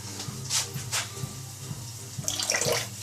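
A kitchen tap runs as hands are rinsed after cooking seafood, giving a soft, uneven splash of water with a few brief louder gushes near the microphone.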